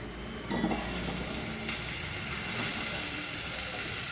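Sliced onions frying in hot oil for a Telugu-style curry give a close, steady hissing sizzle that starts with a brief burst and then runs evenly without pause.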